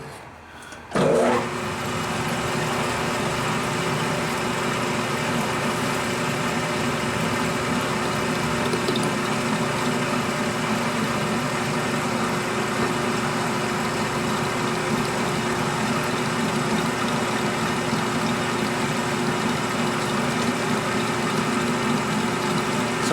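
A metal lathe runs while cutting a part, with a steady, loud mechanical hum and whir that starts after a brief thump and holds unchanged and continuous throughout, with no speech.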